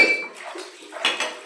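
Pots, pans and cutlery clatter and clink together during dishwashing at home, a steady series of close metallic knocks and rattles with brighter clinks near the end.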